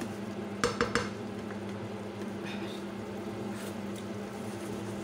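Small squid are dropped into a pan of cooking onions, with a few sharp metallic clatters of utensil against pan early on, followed by a steady low sizzle and occasional soft stirring scrapes.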